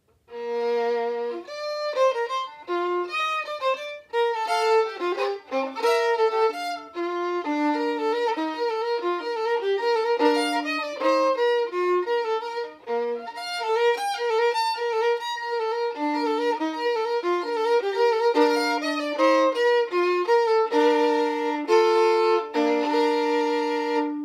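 A solo violin plays the flowing, ornamented ending of a Fantasia for Solo Violin, third movement, with continuous bowing and quick note runs, clear and unaccompanied throughout.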